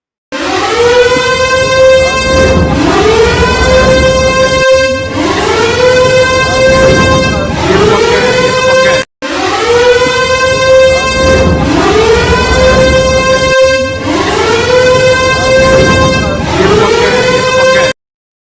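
Civil defense sirens wail at night in Sialkot, Pakistan, in long rising-and-falling cycles that repeat steadily, loud and close, with a brief break midway; a voice speaks briefly beneath them.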